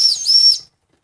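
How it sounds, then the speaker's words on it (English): A brass-tagged Jensen #35 toy steam engine's whistle gives a shrill, clear blast of about half a second, dipping briefly and then cutting off, loud and close with no talk. "Whistle."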